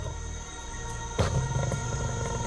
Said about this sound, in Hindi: इनकी दहाड़ 8 किलोमीटर से भी ज्यादा दूर तक सुनाई देती है